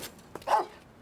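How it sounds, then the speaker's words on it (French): A single short dog bark rises out of a quiet background, brief and moderately close, with no talk over it. "Le chien est très méchant."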